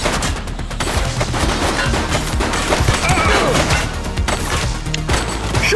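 Dense bursts of gunfire from the police game The Precinct crackle continuously, with rapid overlapping shots and sharp splintering cracks, loud and close throughout.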